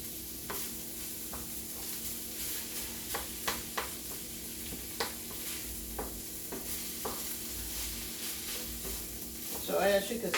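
Duck and dirty rice stirred in a pan, with steady sizzling and a run of irregular scraping spoon strokes, close and fairly loud, no voices.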